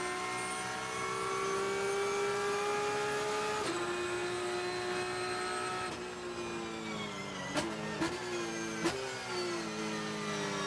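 A racing car in an International GT race at Mid-Ohio, heard onboard with its engine blaring loud and close. The high whine holds steady, then drops through downshifts with several sharp blips as the car brakes into a corner.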